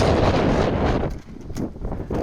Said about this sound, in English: Can you tell it's a little bit windy now?